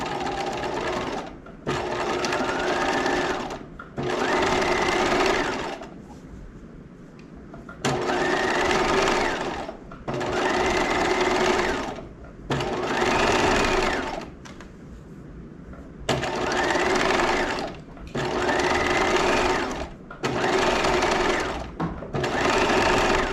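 A sewing machine stitches slowly in short repeated bursts, pausing between runs while pivoting at the V point of a Gardner top's center front, with no one talking.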